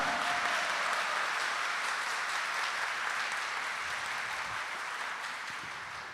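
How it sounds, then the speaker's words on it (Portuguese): Church congregation applauding during a Sunday Mass homily, a continuous bright wash of clapping from many hands that fades slightly toward the end, with no talking. "Vamos dar uma salva de palmas para Ele."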